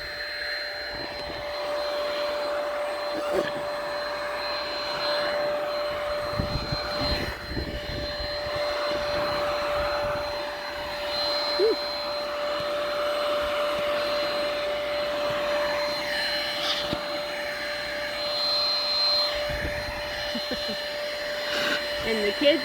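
A vacuum cleaner sucks garden pests off corn plants outdoors, its steady motor whine running continuously and fairly loud throughout, with faint voices occasionally underneath.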